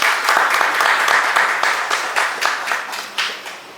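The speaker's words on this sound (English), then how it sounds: "Please give her another round of applause." Applause from a lecture audience, loud and close at first with individual claps audible, gradually thinning into scattered, sparser claps toward the end, with no talking over it.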